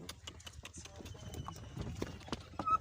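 A donkey pulls a cart along, its hooves clip-clopping in an irregular, fairly close rhythm of sharp knocks over a low background rumble, with faint voices nearby.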